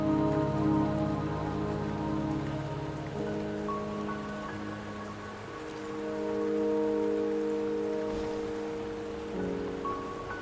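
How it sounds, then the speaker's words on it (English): Steady rain pours across the landscape in the video game Wuthering Waves, a dense hiss of drops on surfaces that holds for the whole stretch, with soft tonal game music layered underneath and no one speaking. "Don't worry, the rain won't last much longer."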